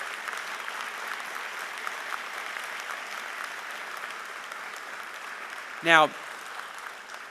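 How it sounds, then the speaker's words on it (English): Applause from the audience at the 2014 Virginia Tech Carilion School of Medicine graduation ceremony: a broad, steady roar of clapping from a large crowd, with a short spoken word near the end. "I would like you to give them a big round of applause"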